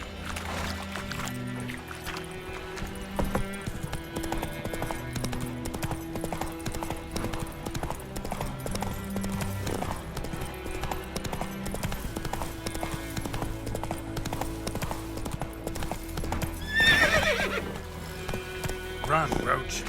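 Roach the horse gallops in The Witcher 3 on PS5, rhythmic clopping hoofbeats running under game music and voices, with a sharp whinny rising briefly near the end.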